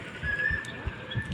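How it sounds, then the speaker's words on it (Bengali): On a quiet road along the south side of Adra railway station in the afternoon, a thin, sustained whistling bird call carries at moderate volume over soft low thumps and faint outdoor background. "কিছু এখানে পাখির ডাক এখন শোনা যাচ্ছে"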